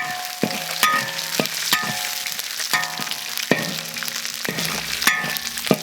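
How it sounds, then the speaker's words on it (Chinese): Ginger and garlic stir-frying in a wok, a steady close sizzle broken by repeated metallic spatula scrapes and knocks against the pan. "下入姜蒜炒"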